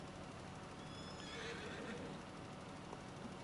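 Horses in the farming video game Farming Simulator 25 give a whinnying neigh over a steady rumbling background, fairly distant and not loud, with no talking.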